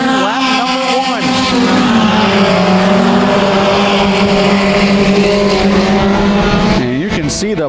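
Mini stock race cars roaring loudly around a dirt track at Genesee, engines revving and shifting pitch continuously as two cars battle closely, with a brief rise near the end.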